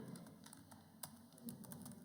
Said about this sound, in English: I'm just typing a very simple program